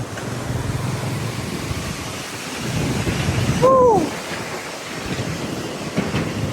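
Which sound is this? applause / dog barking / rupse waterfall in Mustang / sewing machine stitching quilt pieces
rupse waterfall in Mustang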